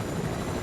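A helicopter in the video game Fortnite drones in a steady, continuous rotor rumble, close and loud, with no speech.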